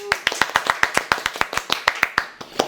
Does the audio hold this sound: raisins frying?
no